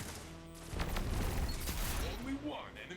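A volley of gunfire in a competitive video game match, a scattered rattle of shots under a commentator's voice.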